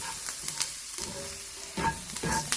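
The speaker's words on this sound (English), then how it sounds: "Now I like my onions to be browned a little bit" Onions frying and browning in a pan, a steady soft sizzle with a few louder crackles and spoon-stirring scrapes, heard close and with no voices.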